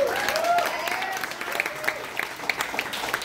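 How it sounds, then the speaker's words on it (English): Moderate audience applause in a hall, scattered claps blending into a steady patter, with a voice speaking over the opening moments and a few sharper individual claps standing out. "give a round of applause to our Samantha for there."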